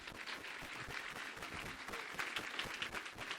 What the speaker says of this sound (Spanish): Un aplauso para nuestra hermana.